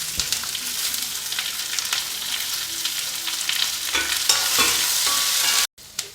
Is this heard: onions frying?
yes